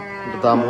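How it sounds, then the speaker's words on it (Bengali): A cow lows briefly at a rainy Hazaribagh cattle market during Qurbani season, a short near moo that swells at the end while someone talks over it. "এই গরুটা ডাকাডাকি করতেছে"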